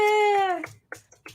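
A cat gives one drawn-out meow, close and clear, fading after about half a second and followed by a few brief, soft mouth sounds.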